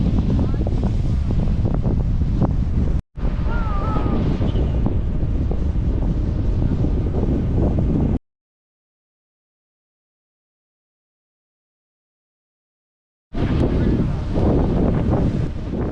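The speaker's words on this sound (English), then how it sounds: "listen to the sound of the ocean. It's amazing. It is very windy out here." Strong wind buffeting the microphone over rough open-sea waves off Aruba, a loud steady roar broken by a brief dropout and a long silent gap before it returns.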